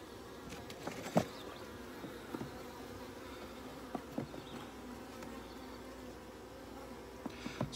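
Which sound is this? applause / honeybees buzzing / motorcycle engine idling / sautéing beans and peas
honeybees buzzing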